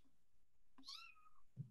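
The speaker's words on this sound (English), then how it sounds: "The only person who hears kittens" A kitten gives a single faint, thin, rising-then-falling meow, followed moments later by a soft low chirp-like sound in a quiet room.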